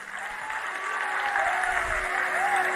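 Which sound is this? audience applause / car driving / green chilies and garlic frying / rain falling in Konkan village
audience applause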